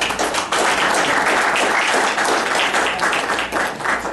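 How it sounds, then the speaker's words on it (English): Applause for the sheriff at a county commissioners' public meeting, a dense, steady round of clapping from the audience that stays loud throughout. "I think we owe the sheriff just a big round of applause."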